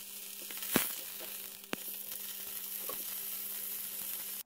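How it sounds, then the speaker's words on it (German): A sesame-crusted tuna steak sears in a hot pan with a steady, soft sizzle. A couple of sharp crackles and pops stand out over a low background hum. "Und jetzt können wir es schon anbraten."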